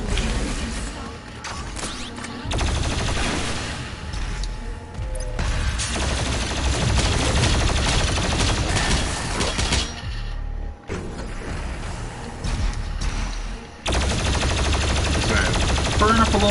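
Heavy weapon fire in DOOM Eternal's Mars Core mission, with relentless rapid blasts and bursts layered over game noise, broken by brief pauses, with someone talking at times underneath.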